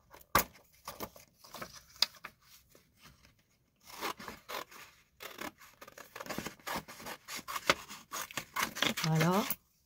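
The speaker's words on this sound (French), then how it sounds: "Là, il y a des belles petites enveloppes à découper. Donc, je vais m'amuser à découper tout ça." Scissors snipping through small paper envelopes for a card-making craft, a series of close, sharp cutting and rustling sounds in bursts, with someone speaking at the end.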